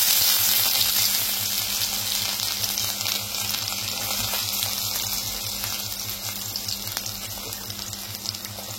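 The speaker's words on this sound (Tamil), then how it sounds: "வெங்காயம் வந்து நல்லா வதக்கணுங்க." Finely chopped onions sautéing in a pan with oil, a loud continuous frying sizzle up close over a low steady hum, gradually easing slightly over time.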